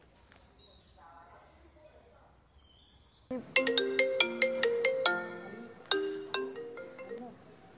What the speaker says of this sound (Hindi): फोन करता हूँ स्वाति को।